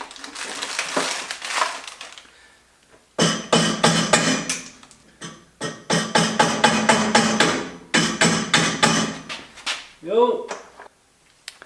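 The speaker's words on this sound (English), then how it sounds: "I mean this is a hammer." Rapid, sharp metallic hammer blows strike in clustered bursts, loud and close, with brief pauses between volleys and some rustling noise at the start.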